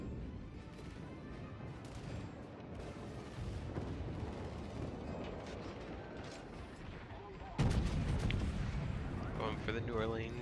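Secondary guns firing during a World of Warships naval battle against a destroyer, with steady booming and mechanical clatter over game ambience, a louder burst of blasts near the end, and a person speaking over it.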